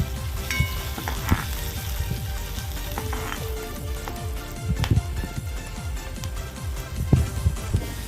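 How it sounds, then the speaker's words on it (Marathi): Chopped onion sizzles steadily in hot oil in a pan, with dense popping and crackling close by and occasional louder spits and stirring sounds. No one speaks. "कांदा, तळून घेऊ."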